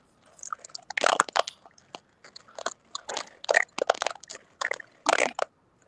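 Someone chews and bites on something over a phone call, giving bursts of close, wet crunching and mouth noises in irregular clusters separated by short silences.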